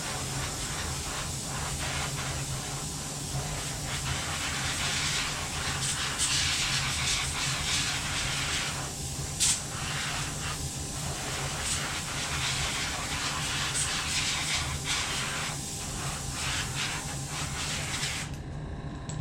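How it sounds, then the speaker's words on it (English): Compressed air blasts a freshly painted fishing lure dry, a loud continuous hiss close to the mic that wavers slightly in strength and cuts off at the end. "now I'm just going to hit it with the air to dry it"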